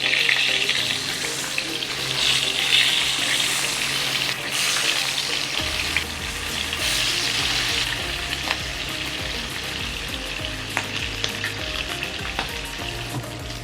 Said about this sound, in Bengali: এখন আমি ইলিশ মাছগুলো একে একে ভেজে নেব।